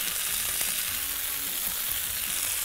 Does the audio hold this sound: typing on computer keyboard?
no